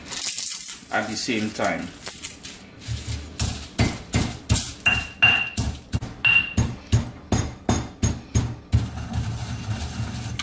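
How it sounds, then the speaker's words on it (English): Pimento berries and bay leaf crushed by hand in a mortar, a close, rhythmic series of sharp pounding strikes with crunching, while someone speaks briefly. "as I crush the pimento berries, what I'm going to do is grab some of that bay leaf, crush it in there"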